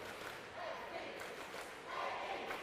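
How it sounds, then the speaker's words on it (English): Crowd cheering at a state swimming championship finals, a faint, steady roar from a large indoor audience that swells in waves, mixed with distant voices. "let's wait for this cheer to finish"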